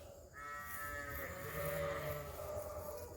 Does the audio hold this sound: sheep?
yes